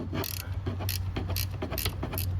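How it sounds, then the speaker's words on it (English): A 10mm wrench works loose the bottom bolts of a transmission cover on a Buick Enclave/Traverse 6T70 transmission, giving a steady run of sharp metallic clicks every half second or so over a constant low hum. "now I'm going to use a 10mm wrench and finish taking out these two bottom ones"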